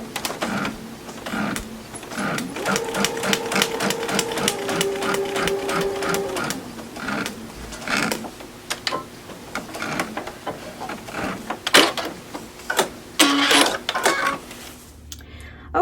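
A sewing machine stitches a log cabin quilt block in rapid bursts of mechanical clatter, stopping and restarting several times, with a few sharp clicks and handling noises between runs.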